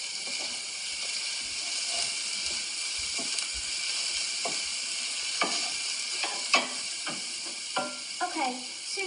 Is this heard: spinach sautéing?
yes